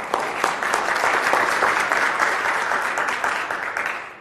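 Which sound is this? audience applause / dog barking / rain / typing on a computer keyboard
audience applause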